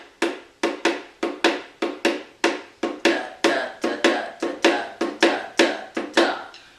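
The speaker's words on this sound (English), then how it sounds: "So the typical Cascara sounds like this." Cascara Latin pattern played on drums: a crisp, evenly spaced string of sharp strikes with some accented hits, close and clear, repeating for several bars with no voices.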